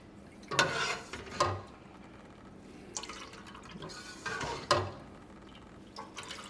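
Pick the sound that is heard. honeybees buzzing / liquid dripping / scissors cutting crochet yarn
liquid dripping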